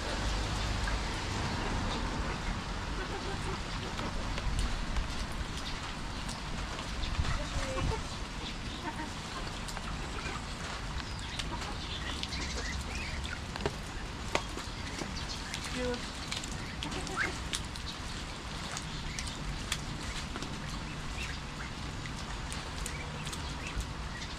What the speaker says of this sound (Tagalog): Lumalakas na naman ang ulan.